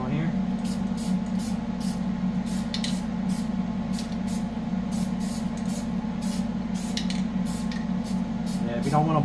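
CRC anti-spatter spray hissing steadily from an aerosol can onto welded metal for a Farmall 450 diesel rear mount, a continuous close spray under a low background hum with faint clicks, no talking.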